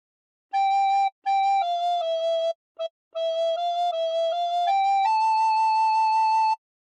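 A recorder plays the Squid Game theme, a simple melody of clear, breathy whistle-like notes, with brief gaps and a long held final note, solo and close.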